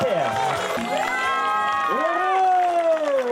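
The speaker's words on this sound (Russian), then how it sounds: "Аплодисменты!" An award ceremony audience at the Plarium Ukraine Cup cheers and applauds a third-place team, with loud shouts and whoops from several voices over a continuous bed of clapping and crowd noise.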